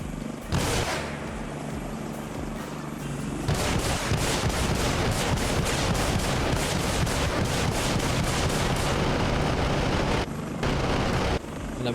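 Helicopter door gunner firing in the video game Arma Reforger, dense rapid bursts of automatic gunfire over a constant rotor drone, broken by short pauses, loud and close with no talking.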